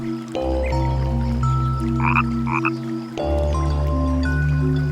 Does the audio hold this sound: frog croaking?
yes